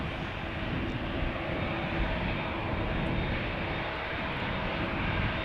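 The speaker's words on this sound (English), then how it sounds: "It is United in a Dreamliner" A United Boeing Dreamliner departs Amsterdam Schiphol, its engine noise a dense, constant rumbling roar, steady and close, with no one talking.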